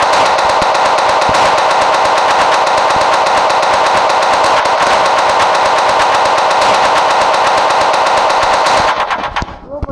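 Gun firing in the Melon Playground video game: a loud, unbroken stream of rapid automatic fire, close and harsh, lasting about nine seconds before cutting off abruptly.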